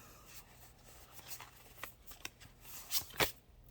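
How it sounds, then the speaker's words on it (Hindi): Tarot cards are shuffled and drawn close to the microphone in a quiet room, a series of soft, quick riffling and sliding rustles with a few sharper snaps toward the end. "एक आखिरी कार्ड निकालेंगे"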